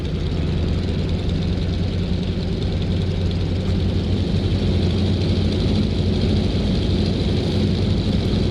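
A steady, droning piston engine on a Beaver aircraft in X-Plane 11 holds a constant low rumble while taxiing, unchanging in pitch and loudness for the whole stretch, with no talking over it.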